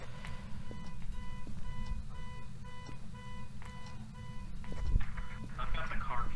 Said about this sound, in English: The ghost is in there because the car alarm is going off.